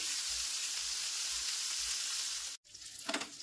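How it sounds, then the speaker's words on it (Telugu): Fish pieces frying in hot oil in a pan produce a steady, loud, close hiss of sizzling that cuts off briefly and resumes with a sharper crackle. "ఇలా అన్నింటినీ తిరగేసుకున్నాక ఒక్క నిమిషం ఫ్రై అయితే సరిపోతుందండి"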